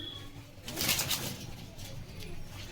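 Pigeons coo softly in a loft, with a low, muffled murmur of cooing and a faint rustle of wings, fairly near but quiet.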